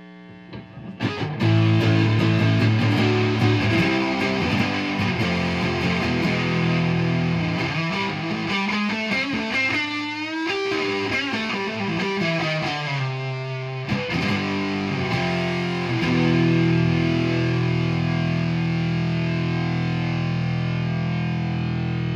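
Heavily distorted electric guitar plays loud, sustained chords and riffs through a Marshall 4x10 cabinet with a Celestion Vintage 30, gain at maximum, a thick saturated tone ringing continuously throughout.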